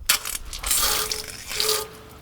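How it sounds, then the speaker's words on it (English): A water spray hisses onto a coated bracket in short bursts, close and fairly loud, with pauses between them. "And now we can also spray it down to see how well the water still beads off."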